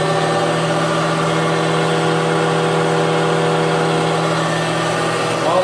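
A large shop machine's motor runs steadily at about 650 RPM, a constant loud hum with a strong low tone and a flat, unbroken drone throughout.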